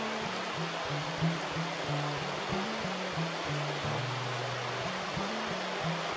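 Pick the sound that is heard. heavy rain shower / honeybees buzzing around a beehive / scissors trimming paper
heavy rain shower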